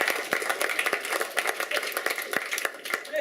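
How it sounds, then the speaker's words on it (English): Clapping at a UCMMA mixed martial arts press conference, a few people applauding in a loose, uneven burst of sharp hand claps, moderately close and continuing throughout. "I'll clap this up for that."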